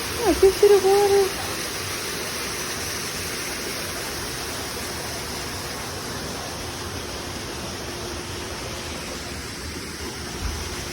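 Flowing water at a resort lazy river in Myrtle Beach forms a steady, broad wash that fills the whole stretch, with a brief voice near the start.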